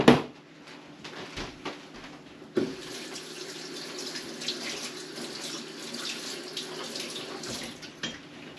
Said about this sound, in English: I think I will actually rinse that off just quickly